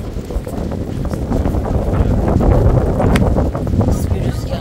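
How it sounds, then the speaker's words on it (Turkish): Strong wind at the seaside roars steadily and buffets the microphone the whole time, a dense blustery rush that swells slightly midway. "Nasıl bir rüzgarı var ya."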